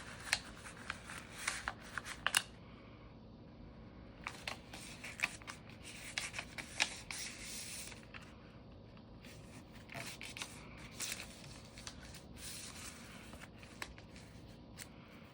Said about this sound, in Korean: 접었으면 이 부분이 이 윗부분을 만나게 접어주세요